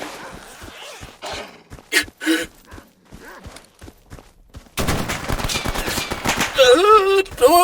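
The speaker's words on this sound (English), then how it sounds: "It's a blind dog." A blind dog mutant in the shooter game S.T.A.L.K.E.R. Anomaly yelps and snarls in short bursts among gunfire and game effects, followed by louder growling and whining.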